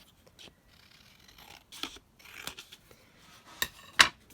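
Scissors cut along a sheet of paper for a simple holiday craft project, making a few crisp snips and a slicing rustle that ends in a sharper final cut, close by and soft in a quiet room.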